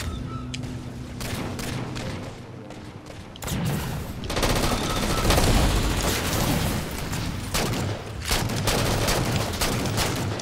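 Video game gunfire in a shooter match, rapid bursts of automatic shots and booms, loud and dense, continuing in volleys through most of the stretch.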